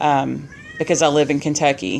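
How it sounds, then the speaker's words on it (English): A female cat in heat meows loudly and insistently in the background, with drawn-out wailing cries mixed with a person talking close by. "You can hear my cat in the background."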